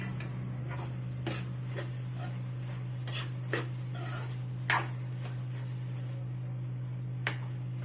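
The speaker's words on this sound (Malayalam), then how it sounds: "നമുക്ക് നന്നായിട്ട് ഇളക്കാം." A spoon scrapes and taps against a pot of simmering vegetable curry with potatoes, giving a handful of light, irregular clinks over a steady low hum, close and fairly quiet.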